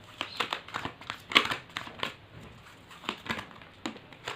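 Card stock crinkles and snaps as a tarot card is pulled from the deck and handled, a series of short crisp rustles and taps with no talking.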